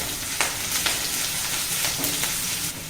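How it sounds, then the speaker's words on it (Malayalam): Sliced onions sizzle in oil in a pan for a masala dosa potato filling, a steady close hiss broken by a few brief stirring scrapes, no voices. "ആദ്യം സവാള ഇട്ടു"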